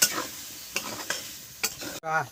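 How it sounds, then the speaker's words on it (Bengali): Water poured into a frying potato and cauliflower samosa filling, a steady sizzle with several sharp spoon scrapes against the pan, ending in a brief bubbling hiss. "এই জল দিয়ে দিচ্ছি, দেখুন সামান্য করে দিয়ে এটাকে একটু সামান্য একটু সিদ্ধ করে নেব"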